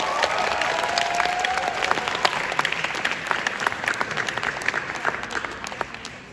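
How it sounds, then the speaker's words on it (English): An audience at a high school talent show gives steady, dense applause that holds for several seconds, with a few louder individual claps standing out before it softens toward the end. "So, can I hear a big round of applause?"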